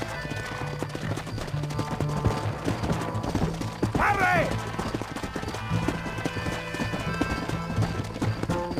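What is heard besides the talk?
horses galloping in video game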